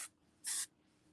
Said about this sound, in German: Also, ich sprühe den mal so ein bisschen bei mir auf.